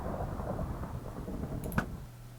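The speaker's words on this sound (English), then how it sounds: "Wow, I keep getting thunderstorms on this map" Thunderstorm in a video game, a low continuous rumble of thunder with light rain on its own and one brief sharp crack near the end.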